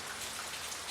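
Steady rain pours down in a cartoon about two bears, a dense even hiss of falling drops with no voices over it.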